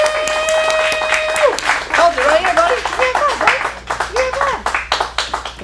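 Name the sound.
audience applause after a kids' acting scene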